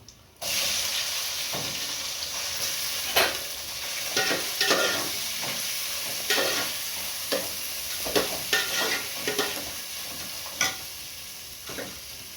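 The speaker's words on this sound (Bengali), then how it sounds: "এই দেখুন চালটা একটু নাড়াচাড়া করে নিয়েছি।" Soaked basmati rice being stirred in a pan with fried cashews and raisins for sweet pulao, giving a steady sizzling hiss broken by repeated scraping strokes of the spoon.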